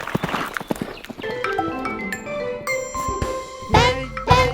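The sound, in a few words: horse galloping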